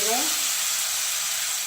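Tamarind pulusu being poured onto fried dried red chillies gives a loud, steady hiss of sizzling. A brief lower gurgle marks the start of the pour, then the frying crackle holds throughout.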